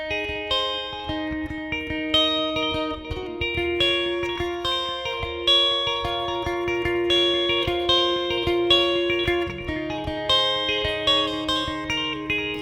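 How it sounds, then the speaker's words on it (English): Electric guitar lead played through a NUX Cerberus multi-effects pedalboard with phaser and delay engaged, sustained melodic notes swirling and repeating in steady phrases, loud and alone without talk. "I simply bring in the electric sound, and I already have my phaser delay on"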